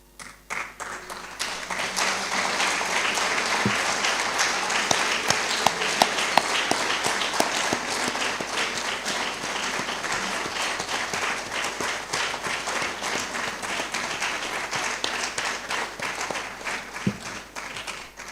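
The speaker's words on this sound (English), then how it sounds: "I had wanted his family to actually stand up so we will see them and give them a proper applause." Sustained audience applause fills a lecture hall after an inaugural university lecture, a dense, steady clapping from a large crowd that continues for the full stretch with no speech over it.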